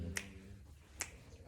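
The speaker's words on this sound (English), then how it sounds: "Snapping my fingers." Two sharp finger snaps about a second apart, close and crisp against a quiet indoor background with faint low hum.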